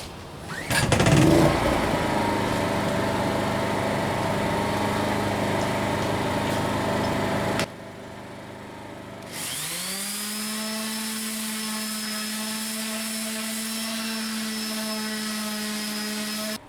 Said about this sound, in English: Now we got to sand it, so we'll see how it runs the sander.